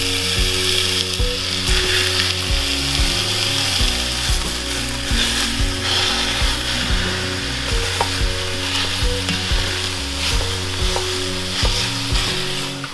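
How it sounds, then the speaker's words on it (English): Half a pound of ground sausage and lean ground beef frying in a large Dutch oven on medium-high heat, a loud, continuous sizzle close up with intermittent scraping and stirring clatter, no voices. "I've got my large Dutch oven on medium-high heat. I'm gonna add our meat."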